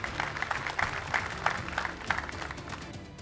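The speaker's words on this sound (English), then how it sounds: "Everybody put your hands together and give him a round of applause." Audience at an entrepreneur award ceremony applauds in a modest, somewhat distant round of clapping that holds steady for a few seconds.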